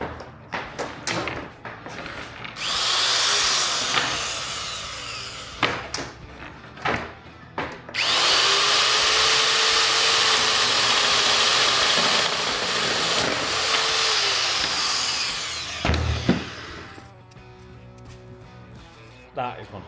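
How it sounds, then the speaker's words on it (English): Cable is cut to length during a campervan build, with a few sharp knocks and clunks followed by a sustained, loud, close grinding cut lasting several seconds, then more handling noises. "I'm just going to cut through twice on the cable to get the length I need"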